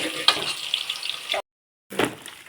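Onions sizzle and crackle in a hot pan, a steady close frying hiss that cuts out briefly and then returns.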